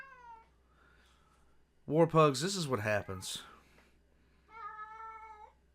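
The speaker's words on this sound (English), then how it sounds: "he's just staring at me and meowing." A cat meows in short, clear cries, once at the start and again near the end, with a person talking in between.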